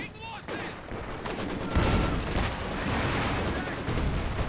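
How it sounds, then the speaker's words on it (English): An artillery barrage and rifle fire rattle through a Company of Heroes 2 two-versus-two match, with dense, continuous volleys of cracks and booms layered at a steady loud level. "There's this barrage to clear out squads behind cover."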